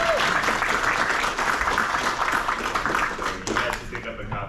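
A student audience at a college poetry reading claps in a steady wash, moderately loud throughout and thinning toward the end, with some talk mixed in.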